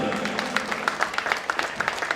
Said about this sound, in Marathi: एकदा जोरदार टाळ्या या सर्व मित्रांसाठी.